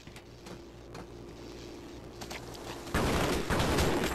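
In the Half-Life VR video game, gunfire aimed at the player cracks out as a few faint, scattered shots over low game ambience, then a loud burst of rapid shooting erupts near the end and keeps going.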